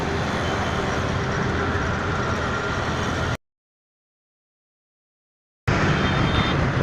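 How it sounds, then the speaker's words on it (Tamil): A Honda City fitted with a modified loud exhaust roars on the OMR road in Chennai, a dense, steady rumble lasting a few seconds, cutting out briefly, then returning just as loud. "என்ன வண்டி இது ஹோண்டா சிட்டியா"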